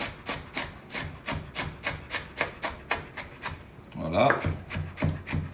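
Knife finely chopping red onion on a cutting board in quick, even strokes, about a dozen close crisp chops in steady rhythm, with a brief spoken word near the end.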